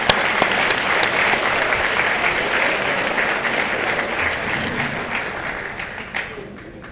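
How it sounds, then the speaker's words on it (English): Banquet guests at a women's awards dinner give warm, steady applause, a dense wash of many hands that holds evenly, then thins and tapers off at the end. "give her a round of applause"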